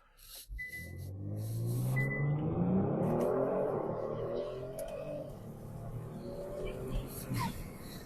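Kia Stinger GT2 with a LAP3 TCU launching hard, engine note climbing through rising gears with brief paddle-shift breaks, loud and close, then easing off; a voice talks briefly over it.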